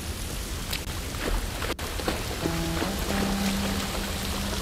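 Steady rain patters continuously in the video game The Last of Us Part 1, with a faint tonal hum rising partway through and a brief dip in the noise.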